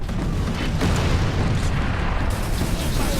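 Grenade blasts in Warhammer 40K: Space Marine, a dense, loud, continuous rumbling boom with crackling debris that fills the whole few seconds without letting up.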